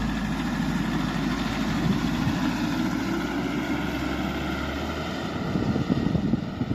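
A vehicle engine at full throttle climbs in second gear on the rough Pamir Highway in Tajikistan: a loud, continuous, strained drone with steady rumble and slight surges near the end, no talking.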